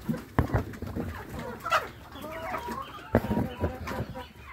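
Several chickens cluck and squawk nearby as grain is tossed to them in the morning, with irregular bursts of clucking and a few short calls. A voice is faintly heard now and then.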